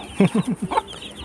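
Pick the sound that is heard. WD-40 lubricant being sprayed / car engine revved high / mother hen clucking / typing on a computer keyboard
mother hen clucking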